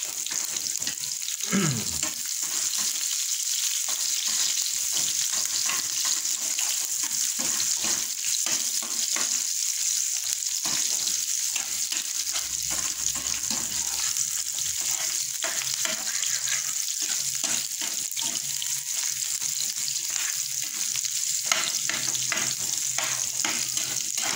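Lots of onions sautéing in a pan, a steady close sizzle with occasional stirring and scraping, alone without talk throughout.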